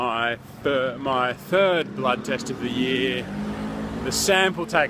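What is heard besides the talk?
busy road traffic, cars passing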